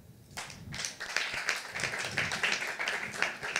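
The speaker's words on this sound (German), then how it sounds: "Wie klingt euer Applaus für so einen Slammer?" An audience at a science slam applauds, clapping that starts after a brief pause and quickly builds into a steady, dense round of applause, with faint voices mixed in.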